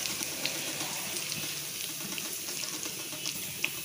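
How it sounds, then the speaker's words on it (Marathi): Cumin seeds sizzling in hot oil, a faint steady crackling hiss with scattered small pops, close and continuous for a few seconds. "तेल तापले, जिरे घालायचे,"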